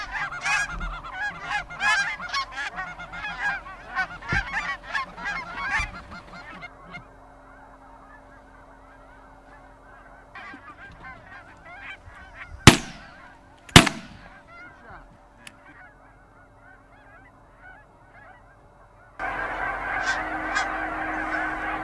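Flights of geese arrive during a hunt, their honks a busy chorus at first, then thinning to near quiet. Two sharp gunshots crack in the middle before honking swells again near the end.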